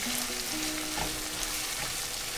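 Mustard greens and aromatics sauté in a pan for sarson ka saag, giving a dense, steady, loud sizzle with faint stirring scrapes underneath, heard up close and without speech.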